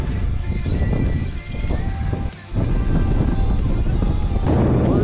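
Strong, cold mountain wind buffets the microphone in a continuous, rumbling roar during a ski tour near Col de Enchassier, with a brief lull before the gusts return, loud and close.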